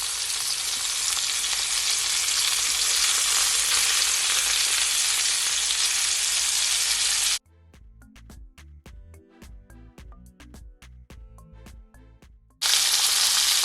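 Chicken frying in a pan after being flipped, a loud steady sizzle that cuts out for several seconds of quiet tapping before the sizzle returns.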